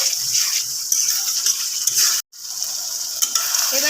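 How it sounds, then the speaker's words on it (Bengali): Fried potatoes, ginger and slit green chillies being stirred in a pan, a steady hiss of sizzling oil with repeated scraping and clinking of the spoon against the pan, broken by one brief silent gap. "আদাটা দিয়ে দেওয়া হলো এবারে ভাজা আলু আর চেরা কাঁচা লঙ্কা দিয়ে দেওয়া হলো এবার এটা দিয়ে ভালোভাবে মিক্স করা হচ্ছে"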